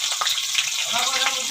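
Green chili and cumin seeds frying in hot oil give a steady, close crackling sizzle with brief spattering bursts.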